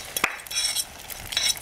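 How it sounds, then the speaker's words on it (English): Hissing sizzle of food in a hot pan, rising and falling, with a sharp clink of a utensil against metal near the start. "You see that sizzling sound?"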